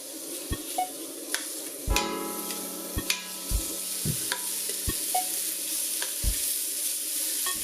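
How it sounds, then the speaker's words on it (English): Pork baby back ribs browning in a little oil in a large pot, with steady sizzling and repeated sharp knocks and clatters as the pieces are moved around, close and with no speech. "Now in a large pot, I'm going to brown those ribs in a little bit of oil."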